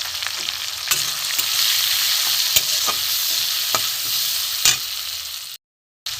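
Green chilies, red chili powder, coriander powder and cumin powder fry in a pan with a steady, dense sizzle, broken by faint scrapes of stirring, before a brief dropout at the end.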